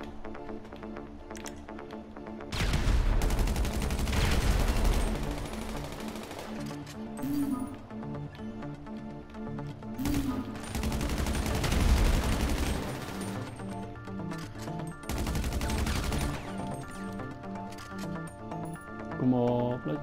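Gunfire in GTA V: several loud bursts of rapid shots in separate volleys, with game music and effects underneath and a voice talking between them.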